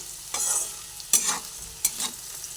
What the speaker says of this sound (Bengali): নুন দেওয়ার পরে আবার ভালোভাবে নাড়াচাড়া করে নিচ্ছি